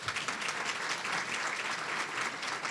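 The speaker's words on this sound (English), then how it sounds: "Let's give them all a round of applause for their support." Conference lunch audience at a convention and visitors bureau event applauding their sponsors, a dense, even wash of clapping from a large crowd, moderately loud and continuous.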